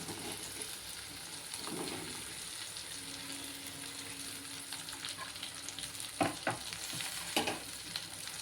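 Okra seasoned with salt and turmeric fries in a pan, a soft continuous sizzle with a few sharper spoon scrapes and clinks near the end, fairly quiet and close, no voices.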